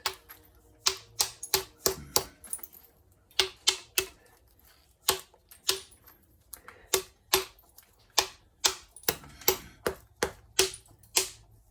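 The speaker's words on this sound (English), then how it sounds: "I'm just trying to break the square edges off right there." Painted buffalo pieces get struck to knock off their square edges, producing sharp, close clacks in irregular bursts, some rapid and some spaced, against near silence with no talking.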